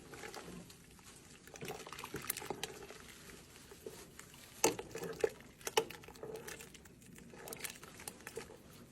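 Diced ham and vegetables are mixed in a pot, giving faint, moist patters and soft scrapes with a few sharper clinks near the middle, against a quiet background.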